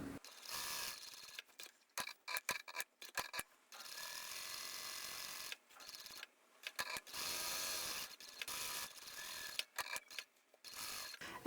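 A sewing machine stitches around the edge of a stabilised fabric storage basket in close, quiet bursts of rapid mechanical whirring, stopping and starting in short runs.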